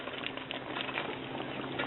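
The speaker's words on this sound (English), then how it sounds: "The liquid's boiling" Beef stew liquid with vegetables and beef bubbling in a pot on the stove, a steady soft patter of boiling that carries evenly through the whole stretch at low level, with no talking.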